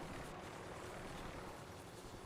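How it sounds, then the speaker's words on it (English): Helicopter in Call of Duty Warzone, a faint steady rotor drone with broad rumbling noise and a subtle pulsing texture, continuous and distant-sounding. "Forgot about the helicopter."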